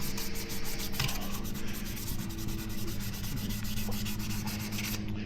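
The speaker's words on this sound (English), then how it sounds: "when you're sanding it off, it sands off the UV coating" A polycarbonate dive camera lens is sanded to remove scratches, making a continuous close, gritty rubbing with short strokes and no talking.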